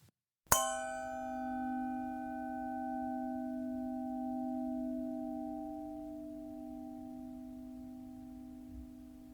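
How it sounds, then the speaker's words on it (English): Two 40-year-old lead crystal Bordeaux wine glasses by the French maker Baccarat give one sharp clink, then a pure, bright ring that sustains for many seconds and fades slowly on its own. "final recording is from two exceptional quality lead crystal Bordeaux glasses made by the French crystal manufacturer Baccarat"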